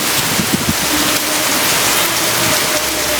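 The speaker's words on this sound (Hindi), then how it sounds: "शाम हो रही है और बारिश हो रही है साथ में बहुत ज़्यादा तेज़" Heavy rain pours down steadily, a dense hiss of drops striking surfaces close by, with a few faint low sounds underneath.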